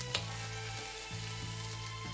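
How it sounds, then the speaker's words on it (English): Sausage meat and bacon sizzle steadily in a pan as a breakfast burrito filling cooks, a dense, even crackle with faint clicks of stirring, no voices. "we're going to just let that cook now for another 5 minutes just to make sure everything's cooked through, particularly the sausage meat and the bacon"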